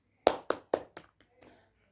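Hands clap sharply four times in an even rhythm, close and loud, followed by a couple of softer, scattered taps as the clapping fades out in an indoor home setting.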